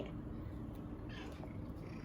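Close, low, rumbling purring comes from a cat lingering in a kitchen while raw chicken is being cut nearby. The purr is steady and continuous for a couple of seconds.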